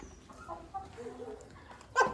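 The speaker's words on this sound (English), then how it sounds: "Okay, mind the chicken." A chicken at a farmhouse near Perugia in Umbria gives a few short, soft clucks in an indoor space, with a sharper sound at the end and faint background noise.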